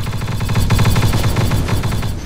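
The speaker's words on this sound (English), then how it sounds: "Yeah, those are definitely cannons." Rapid bursts of cannon and mortar fire in the video game StarSim, a dense, continuous barrage of loud overlapping booms and cracks rolling on without pause.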